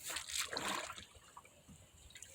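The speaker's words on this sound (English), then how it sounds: "then I'll take my little tray here and I'll just drop it down in the water like so" A seed tray drops into a basin of bleach water with a short splash, followed by gentle sloshing and trickling as the water settles, close and fairly quiet.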